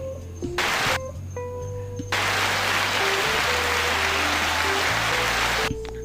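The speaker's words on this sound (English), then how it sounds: "That round of applause is there for you." Applause for veterans at a Veterans Day tribute: a dense, steady wash of clapping swells in after a couple of seconds and holds for about three and a half seconds before dropping away, with low tonal hum running underneath.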